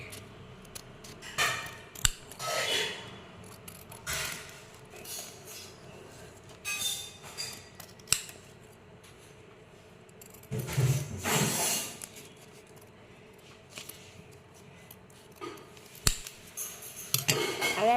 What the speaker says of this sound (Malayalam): ഇനി നമുക്ക് ഇലകൾ പോലെ കുറച്ച് കട്ട് ചെയ്ത് വെക്കാം.